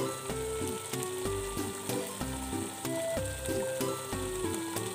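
Flour roasting in desi ghee gives a steady, close sizzle and crackle, with a melodic tonal background running through it and no talking.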